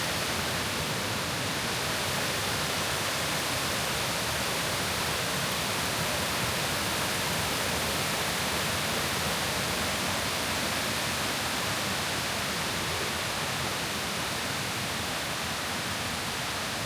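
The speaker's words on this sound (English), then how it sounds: "These are really beautiful, beautiful cascading waterfall steps." Kuang Si waterfall near Luang Prabang, Laos, cascading down stepped pools, a loud, steady, unbroken roar of rushing water that fills the whole stretch with no pauses.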